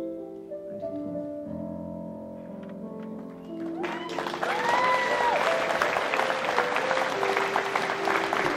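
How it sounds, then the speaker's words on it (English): Applause breaks out at a magic show as an audience claps loudly and steadily, rising suddenly after a quieter stretch of tones and background sound. "Give them a huge round of applause, ladies and gentlemen."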